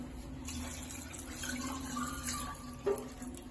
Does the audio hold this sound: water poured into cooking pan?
yes